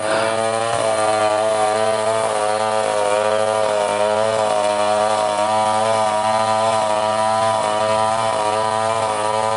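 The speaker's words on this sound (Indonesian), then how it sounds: "Jadi mesin senso itu itu chainsaw ya, itu rantai yang berputar" A chainsaw runs loud and close, used for felling trees and rough-splitting wood. Its engine drones steadily and buzzes with rhythmic pulses in pitch as the chain cuts, continuously for the whole stretch, with no talking.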